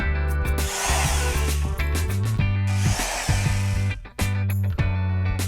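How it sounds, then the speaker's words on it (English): A power drill bores small pilot holes into a wooden kitchen cabinet drawer front, loud close bursts of motor whine rising and stopping several times, alone without talk. "Once again, drill small pilot holes"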